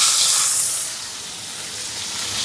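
Onion, curry leaves and dried red chillies sautéing in hot oil for a Sri Lankan chicken lunch, a loud steady hiss that is strongest at first and then eases slightly.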